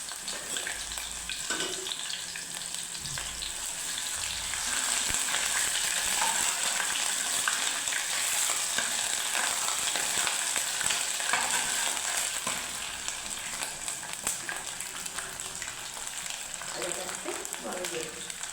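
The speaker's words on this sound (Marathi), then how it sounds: "तेल गरम झालेलं आहे आता सगळं आधी टाकते अदरक लसूणची पेस्ट" Ginger garlic paste sizzles and spatters in hot oil in a home kitchen pan, a loud, dense crackle that swells and settles as it is stirred, with a voice speaking intermittently over it.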